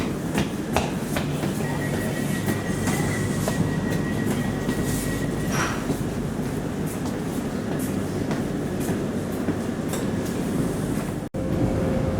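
Inside an HCMT metro train travelling between Flinders Street and Dandenong, a continuous rolling rumble carries repeated rhythmic clacks over the rail joints, loud and close throughout.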